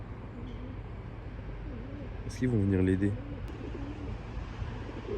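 A pigeon outdoors on a very hot day gives one short, throaty burst of cooing midway, heard over steady background noise while a voice talks nearby.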